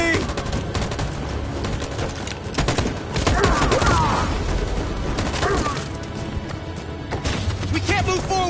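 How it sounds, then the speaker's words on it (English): Dense machine gun fire in the video game Detroit: Become Human, rapid bursts and crackling volleys running almost without pause, loud and close, with splintering impacts and a few shouted voices mixed in. "That machine gun is taking down everything that moves!"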